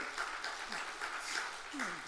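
A church congregation at a Friday prayer service in Yangsan applauds quietly, a soft, continuous clatter of hands with voices faintly mixed in throughout.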